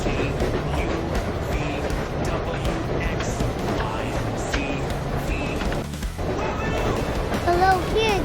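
Train rolling on rails with a continuous rumbling clatter and rhythmic wheel noise, loud and steady throughout, with voices and brighter tones over it.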